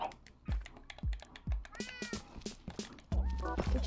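Video game cats let out several short meows, a few in quick succession and then a longer drawn-out one, close by and mixed with other game sounds and clicks.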